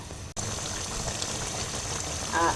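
Raw mango pickle with garlic, mustard oil and spices simmers in sugar syrup in a pan, bubbling in a constant close, soft gurgle, with one short break near the start.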